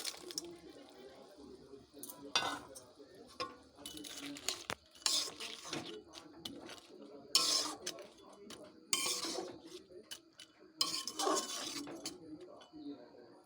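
Fish goes into a spicy curry in a pan, bringing scraping and stirring clatter, metal utensils clinking against the pan in bursts with occasional sizzling between them.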